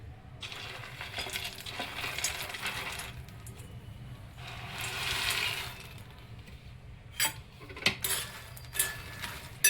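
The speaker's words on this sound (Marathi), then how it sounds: "मीडियम गॅसवर हे मखाणे आपल्याला भाजायचे आहेत।" Makhana (fox nuts) roasting in ghee in a pan over a medium flame, with a soft continuous sizzle and scattered light rattles and clinks as they are stirred, growing sharper near the end.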